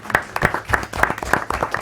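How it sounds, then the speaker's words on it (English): A small group claps at a school board meeting for a teacher's recognition, loose uneven hand claps close by with distinct individual strikes, brief and lively. "and we'll clap again"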